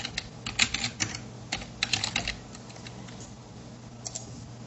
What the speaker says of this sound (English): Type in my various responses that I want my students to pick from.